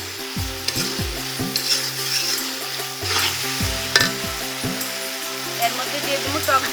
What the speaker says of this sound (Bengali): আমি এর মধ্যে ইসা মাছগুলো দিয়ে দেবো। নেড়েচেড়ে কষাতে হবে ভালো মতো।